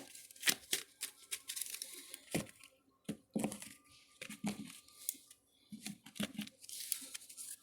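Soft, rapid riffling and slapping of tarot cards being shuffled, in repeated bursts with crisp papery flicks, fairly quiet and close.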